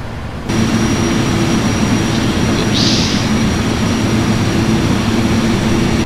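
Jet engines of a PMDG 777-300ER in a flight simulator hold a loud, steady roar that begins abruptly and stays constant at full level, a bright high whine running above the broad rumble.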